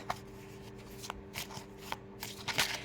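Spirit animal cards are shuffled close up in a quick series of crisp riffling and slapping bursts, with short pauses between them and no talk.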